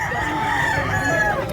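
Rooster crowing loudly nearby at a gamecock sale in Consolacion, Cebu, one drawn-out call with other fowl clucking in the background.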